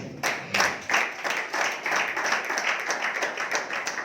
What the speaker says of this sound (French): Acclamons notre Seigneur Jésus-Christ.